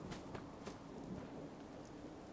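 Steady rain in the video game Fallout 4 patters on a surface, with a few brief louder crackles over the constant hiss; no voices.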